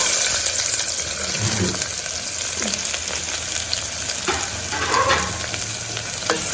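Steady, dense sizzling of onions frying in hot oil and ghee for ivy gourd rice, a continuous crackling hiss with occasional stirring scrapes, no voices.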